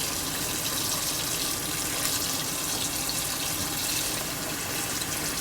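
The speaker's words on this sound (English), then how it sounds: "Drain the water. Pour cold water over" Cold water pours steadily over boiled beef cheeks in a kitchen, a continuous close gushing splash that holds even for several seconds with no talking.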